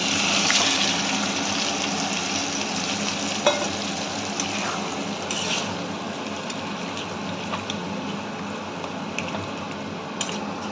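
Boiled lentils, taro, spinach and prawns hiss and sizzle in a hot pan while being stirred, producing a steady, close frying crackle with occasional scrapes and clinks.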